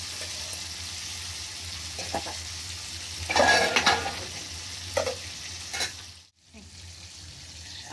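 Chicken liver frying with spices in a pan, a steady sizzle broken by a burst of spatula stirring and scraping against the metal midway, then a brief cut to near silence before the frying resumes.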